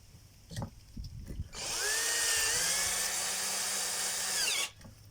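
Power screwdriver or drill screwing a leg onto a branch shredder during assembly, a close, loud, steady whirring burst of about three seconds rising in pitch as the screw drives, preceded by handling knocks.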